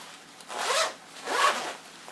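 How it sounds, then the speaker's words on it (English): A zipper on a Montbell Mirage parka pulled in two quick close strokes, a crisp ratcheting rasp with a short gap between, alone and fairly loud. "let's see the zipper."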